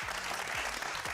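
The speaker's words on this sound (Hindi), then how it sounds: "बिल्कुल अली सिकंदर के लिए तालियां।" Studio audience clapping for actor Ali Sikander on a Pakistani entertainment talk show, a brief dense burst of applause with a low hum and faint thumps underneath.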